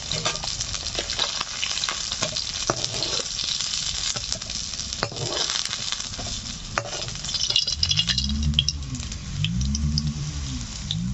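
Pieces of rohu fish fry in hot oil with a steady, close crackling sizzle, broken by occasional spatters and a pair of low scraping turns near the end.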